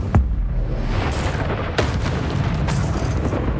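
A fiery magical blast from the Incendio spell in Hogwarts Legacy, heard as a sharp boom near the start, then more whooshing bursts over a constant rumbling battle background.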